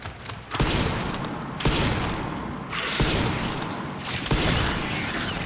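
Repeated shotgun blasts and heavy gunfire from the video game Resident Evil 9, loud and dense, with several sharp booming shots landing about a second apart over a constant noisy combat background.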